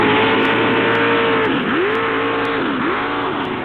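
A mud racing truck engine runs hard nearby, its loud droning roar rising and dipping as the throttle is worked, with no voices.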